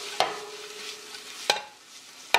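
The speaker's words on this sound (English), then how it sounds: "On a medium high heat dry pan, and we're gonna go in with all that shrimp" Shrimp cooking in a dry pan over medium-high heat, a soft sizzle broken by three sharp utensil knocks or scrapes spaced across the moment.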